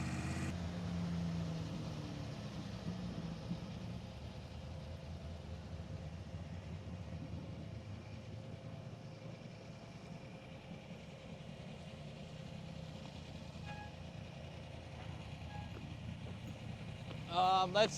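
A 600-horsepower Ford Bronco rock-crawling buggy engine idles with a steady low rumble throughout, close and continuous, with a brief louder burst at the very end.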